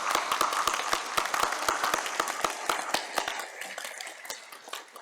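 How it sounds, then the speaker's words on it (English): A commencement ceremony audience gives a round of applause for nursing graduates, scattered individual claps standing out sharply over a continuous clapping bed that gradually thins and softens toward the end. "One more round of applause for our graduates"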